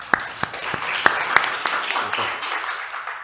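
An audience at a lecture on public procurement applauds a speaker, with a few sharp, separate claps at first that merge into a softer, continuous patter, all moderately distant.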